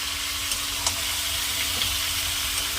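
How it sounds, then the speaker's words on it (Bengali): Diced vegetables with potato, pumpkin and tomato stir-fry in a pan, giving off a steady broad sizzle and hiss up close, with a few faint stirring knocks and no one talking. "এর সঙ্গে হচ্ছে এই টমেটোটা দিয়ে দেবো, দিয়ে ভালো করে নেড়ে নেব।"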